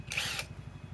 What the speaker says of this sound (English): Now, let's try drilling with it.